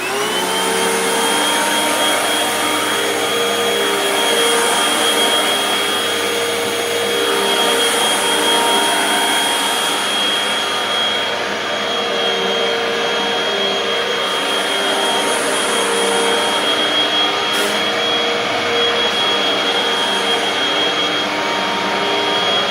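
A Hoover Windtunnel 2 HC Pet vacuum cleaner runs steadily and loudly throughout, a continuous whining motor drone with a high airflow hiss and no talking.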